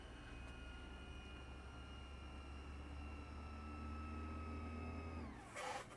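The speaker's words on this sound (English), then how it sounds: "Listen to it fast forwarding. It's like a chopper." A VCR fast-forwards a VHS tape with a faint, steady mechanical whir and whine that holds for about five seconds, then winds down and ends in a short clunk.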